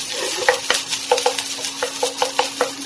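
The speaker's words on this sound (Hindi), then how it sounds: "मिक्स और टॉस करेंगे।" Paella being stirred and tossed in a pan, with quick scraping and clinking strokes over a steady sizzle, close and continuous.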